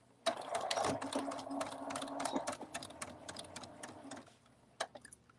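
A home sewing machine stitches a cuddle bunny toy in a steady run of close, rapid mechanical clatter, stopping once, then a few scattered clicks.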